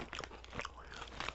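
Crisp crunches and chewing of garlicky twisted potato chips from Taiwan, a few close, quick bites and crinkles over a moment.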